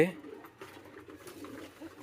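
Pigeons coo at a pigeon farm, soft low burbling calls repeating close by while a person talks over them.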